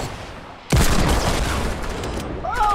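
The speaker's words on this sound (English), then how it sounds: "Where the hell is this freaking shooting coming from?" Rapid bursts of video-game gunfire from Fortnite, including an SMG, erupt suddenly and keep up as a dense, loud barrage. A voice talks over the shooting.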